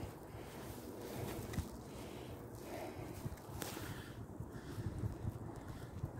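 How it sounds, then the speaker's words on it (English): Outdoor wind buffeting a microphone in steady gusts during a quadcopter test flight, a constant rough low roar with no clear lulls, fairly quiet overall, with no speech. "In between the gusts of bloody wind."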